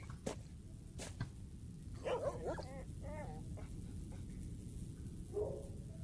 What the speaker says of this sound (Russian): Так, собака.